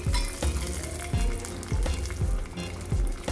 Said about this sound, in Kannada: ಈಗ ತುಪ್ಪನ್ಯಾಗ ಗೋಡಂಬಿ, ಮನುಕ ಮತ್ತು ಬಾದಾಮಿ ಹುರ್ಕೋತೀನಿ